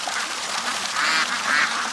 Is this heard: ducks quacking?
yes